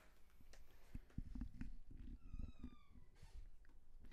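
A cat meows close by near a squeaking door, with a rising squeal in the middle between scattered knocks and rustles, fairly quiet overall.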